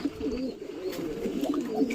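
Young pigeons coo steadily at close range in a home loft, overlapping low warbling calls running without pause.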